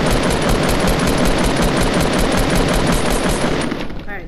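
Rapid automatic gunfire in the video game Fortnite, a dense, loud, continuous burst of evenly spaced shots that cuts off near the end.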